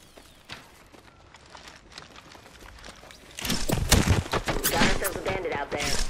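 Rapid bursts of gunfire from an Apex Legends match start quietly, then erupt into loud, dense, overlapping volleys in the second half, with footsteps and a voice speaking over the fight.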